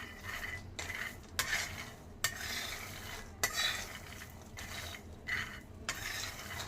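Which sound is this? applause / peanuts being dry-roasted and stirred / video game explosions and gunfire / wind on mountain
peanuts being dry-roasted and stirred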